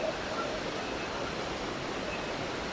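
Git Git waterfall and river roar in a constant, even wash of rushing water, fairly loud and unchanging, with no voices.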